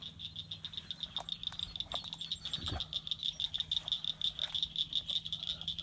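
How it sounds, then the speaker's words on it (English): A chorus of frogs croaks steadily in a grassy pasture near cattle, a dense rhythmic pulsing trill that carries on throughout, fairly close and prominent, with a brief rustle midway and no talk. "Frogs are coming out. I hear the frogs."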